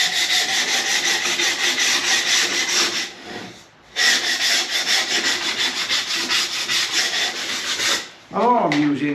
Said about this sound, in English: all I'm using is a block of wood with the sandpaper wrapped around it